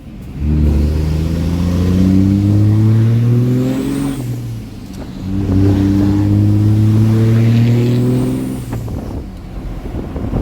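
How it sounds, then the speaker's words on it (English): A 600hp Cummins diesel service truck accelerates in two long pulls, its deep engine rising steadily through the gears each time before easing off, loud and close from inside the cab, with no talking. "That's about how I'd normally accelerate."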